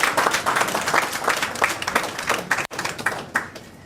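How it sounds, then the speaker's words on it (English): A banquet audience claps in steady applause, many hands near and far, with a momentary dropout before the clapping resumes and slowly thins. "Give them a round of applause."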